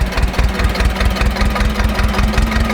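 A tractor engine idles steadily, a low rhythmic chugging and knocking that holds constant throughout with no voices.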